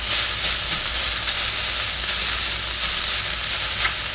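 Ground meat for sloppy joes sizzles steadily in a pan, a loud continuous frying hiss with no pauses and no voices.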